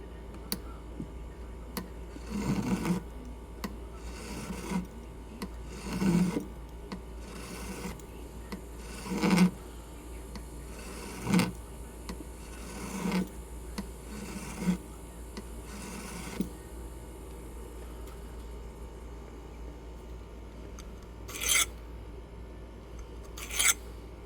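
A hand file works along the top of a workpiece in short separate rasping strokes. About a dozen scrapes come at irregular intervals over a quiet background, each one brief and moderately loud.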